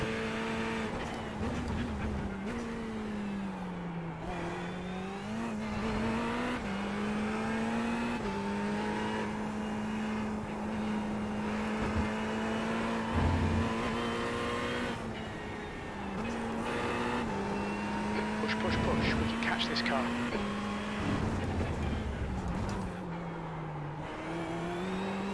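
Race car engine in a racing video game, a steady loud drone with continuous shifts in pitch as it revs up and down through a lap, with no talk.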